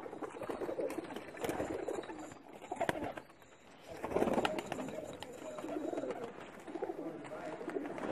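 Pakistani high-flyer pigeons coo in a loft, soft murmuring calls repeating over a steady background of rustling and chatter, with a louder burst of cooing near the middle.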